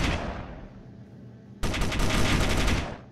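Weapons fire in a Space Engineers battle, a dense burst of rapid automatic gunfire with heavy booms, loud and close. It swells suddenly midway and then fades out.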